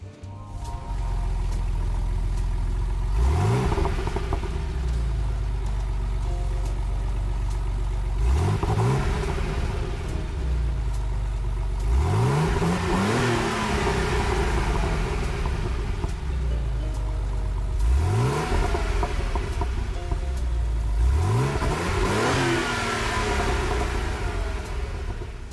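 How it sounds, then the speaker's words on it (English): A Porsche 911 Turbo S in Gran Turismo 7 revs repeatedly, engine pitch sweeping up in five distinct bursts over a constant mid-level drone, with no talking. "that distinct noise comes from the Porsche 911 Turbo S light valve, or lightweight turbo, I believe"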